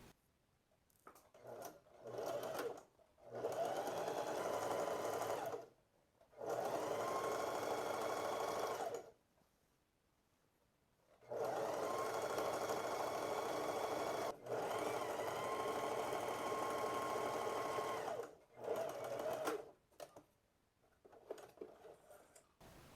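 A sewing machine stitches the hem of a peplum blouse in several loud, steady bursts separated by short pauses, with faint handling noises between runs.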